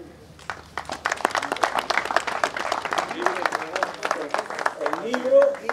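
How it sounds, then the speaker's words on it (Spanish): Applause for the winning breeder at a livestock show, a crowd clapping in a dense patter that starts after half a second and keeps a steady moderate level throughout, with a voice briefly rising near the end. "un aplauso para él"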